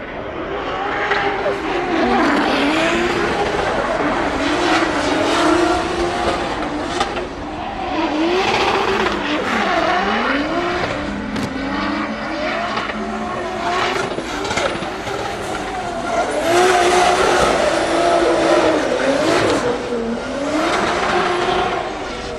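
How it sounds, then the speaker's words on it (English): Drift race cars warm up their tires during practice at the Drift Masters Grand Prix in Ireland, with loud, continuous engine revving and tire noise that rises and falls throughout. "Pavel Korplinski and Mika Keskikorpi warming up tires."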